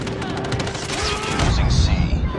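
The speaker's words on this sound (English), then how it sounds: "Friendly airstrike incoming." Airstrike explosions and heavy gunfire in a 10v10 Shipment match of Call of Duty Mobile, dense continuous blasts and rattling shots filling the mix with game voice chatter layered over them.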